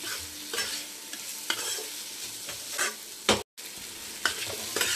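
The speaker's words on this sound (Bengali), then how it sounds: "অনেকক্ষণ ভাজা হয়ে গেছে, প্রায় টমেটোটাও অর্ধেক হয়ে এসছে" Chopped tomato sizzles in a pan for a chickpea curry. A spoon stirs and scrapes it in repeated strokes close by, and the sizzle cuts out briefly once.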